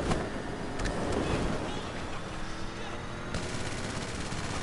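Gunfire in the video game NBA 2K, dense bursts of rapid shots over a loud, noisy, sustained game soundscape, with no talk.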